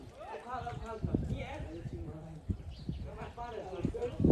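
Horse hooves clop irregularly on a hard surface at vaquejada training in a park while several people talk and call out loudly over them.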